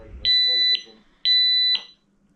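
A smoke detector being tested gives two loud, high-pitched electronic beeps, each about half a second long and separated by a short gap, with faint noises between and after.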